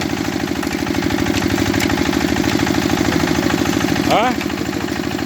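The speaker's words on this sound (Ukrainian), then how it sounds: "даже мотор сильно не напрягається." An engine cutting dry oak runs steadily at a loud, even pitch with a rough rhythmic throb, briefly rising in a short whine near the end.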